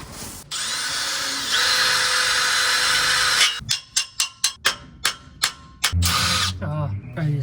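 A power drill drives a self-tapping screw on a budget NASCAR exhaust project: a long loud whine, then a run of short sharp bursts as the drill is pulsed, ending in a brief rattle.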